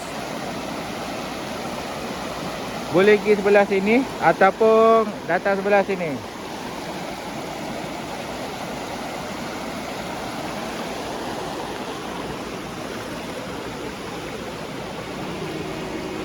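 Steady rushing water of a clean, shallow river flows throughout, with someone talking briefly over it near the start.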